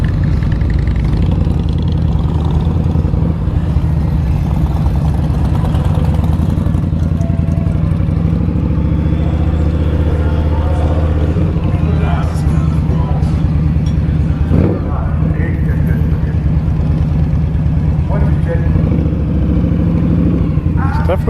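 An Indian Scout 60 motorcycle rides through busy Sturgis rally traffic, its engine rumbling loud and steady up close with wind noise and other engines mixed in.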